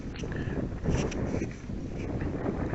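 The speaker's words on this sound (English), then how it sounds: "Every time we go up here, it's always windy." Steady wind buffets the microphone at a park with a constant low roar and rumble throughout, no voices, just blustery outdoor noise.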